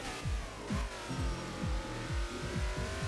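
A NASCAR truck engine in a video game roars steadily with a throbbing, buzzing drone and repeated pulsing shifts, loud and continuous with no voices.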